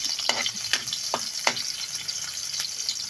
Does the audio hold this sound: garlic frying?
yes